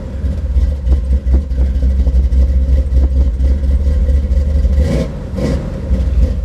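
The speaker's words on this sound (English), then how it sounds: "let's see if the old Camaro will fire off" An old Chevy Camaro V8 with a Holley carburetor runs after starting, with a loud, close, low rumbling idle and a few uneven blips of the throttle; no talk.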